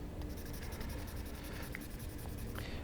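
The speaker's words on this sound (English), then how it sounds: "I'm progressively moving around on my paper to get some fresh sanding surface" Fine sandpaper rubbing over a 2K clear-coated Tamiya model surface, a dry, continuous scratchy hiss with a fast back-and-forth rhythm, close and steady throughout.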